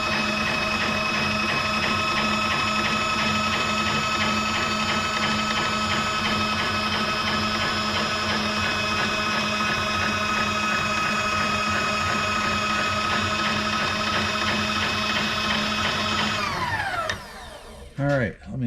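A machine resurfaces the head gasket face of an engine head, a loud, close, sustained tonal whirring and grinding that holds steady for most of the span, then winds down and stops near the end with a few clunks.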